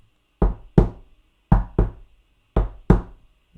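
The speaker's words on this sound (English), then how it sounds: "He knocked 3 times on the door and listened." Knocks on a door in three pairs, each a sharp, close, hollow double rap separated by short pauses, with no talk.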